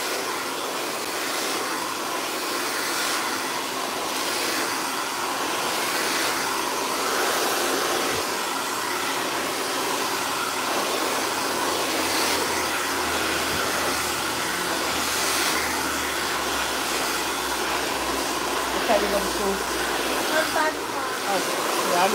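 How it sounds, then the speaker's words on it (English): A Platinum Turbo blow dryer blows out relaxed hair, its steady broadband rushing roar running loud and unbroken throughout with only slight shifts as the dryer moves. "So I'm going to use my Platinum Turbo Blow Dryer to blow her out."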